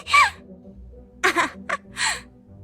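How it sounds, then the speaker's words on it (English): A voice actor performs short cute character vocalizations for an indie game character: four brief gasps and squeaks separated by pauses, close and clear. "So I had my girlfriend record audio, and now Tilly sounds like this."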